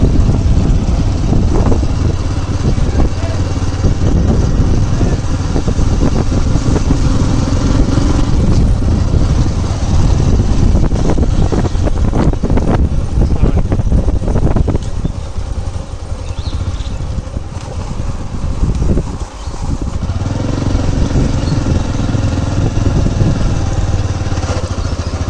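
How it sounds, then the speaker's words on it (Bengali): A motorcycle's engine drones steadily while riding along, a close, continuous low rumble that dips briefly near the end, with no voices. "আমি বর্তমানে আছি মোটর সাইকেলে যাচ্ছে।"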